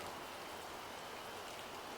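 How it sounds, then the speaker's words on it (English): Soft, even rainfall foley in a lo-fi house beat, a quiet continuous hiss of drops with no distinct rhythm and nothing else standing out. "rain, and I think there's wind chimes in the background."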